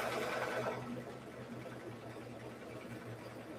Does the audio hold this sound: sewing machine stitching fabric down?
yes